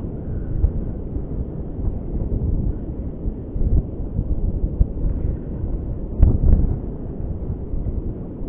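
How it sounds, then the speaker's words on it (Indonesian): Strong wind blows on Cemara beach at Sanur, a continuous low rumbling buffet with gusty swells and a brief stronger blast near the end. "anginnya cukup kencang"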